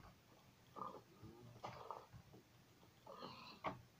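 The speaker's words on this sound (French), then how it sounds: "Il y a des cochons." Pigs in the Minecraft video game give several short grunting oinks in separate bursts, faint and spaced apart with quiet between them.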